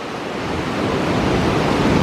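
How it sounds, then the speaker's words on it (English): Steady, loud wind roars and buffets the microphone outdoors in Columbus, Georgia, a constant broadband rush with no breaks and no voices. "can probably hear some wind shear"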